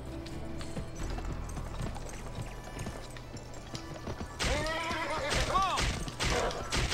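In a video game, hooves clop steadily under a low rumble, then a horse whinnies loudly with a rising, wavering neigh over the galloping.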